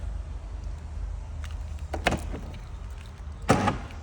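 A quick mechanical clunk and whir of the door lock actuator on a Carbon RXC twin-turbo car, heard twice close up against a low steady hum.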